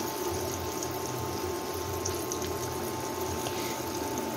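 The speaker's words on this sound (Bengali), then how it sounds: "আমার তেলটা গরম হয়ে গেছে, এখন আমি দিয়ে নিচ্ছি। আমি 2 পিস করে দিয়ে ভেজে নিব।" Two chicken pieces sizzle steadily in hot oil in a home kitchen pan, a close, even, continuous frying hiss with no pauses.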